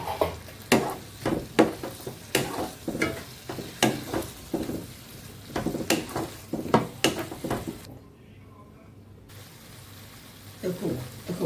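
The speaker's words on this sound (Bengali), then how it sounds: "দিয়ে ভালো করে কষিয়ে নেব।" Spice paste with tomato is stirred and fried in a pan for a paneer kofta curry, with a soft sizzle beneath repeated scraping strokes of a spatula in an uneven rhythm, broken by a brief pause.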